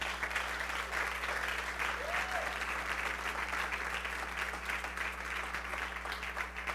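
A church congregation clapping together, a steady, dense wash of hands that carries on evenly from start to finish over a low constant hum.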